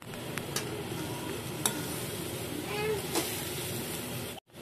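Crushed Maggi noodles with softened vegetables are stirred in a hot pan under a constant low sizzle, with occasional scrapes and taps of the utensil before a brief cut-off near the end.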